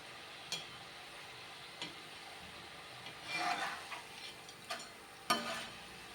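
Murukku fries in bubbling oil, giving a faint steady sizzle with a few soft clicks and taps of a utensil against the pan and no talking.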